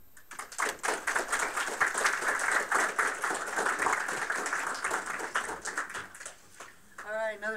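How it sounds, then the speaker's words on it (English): An audience at a veterans' club meeting breaks into a round of applause, a moderately loud clatter of many hands that swells, holds, then tapers off, with a brief voice near the close. "All right, another round of applause for everybody"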